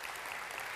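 An audience claps steadily to welcome the head of the knowledge unit at KIT onto the stage at an opening session, a dense, even burst of applause with no talk over it.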